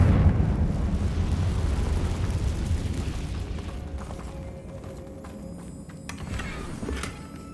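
Fiery spell blast in the Hogwarts Legacy video game, a loud rumbling explosion that rolls on as a sustained low roar and slowly fades, with faint crackles near the end.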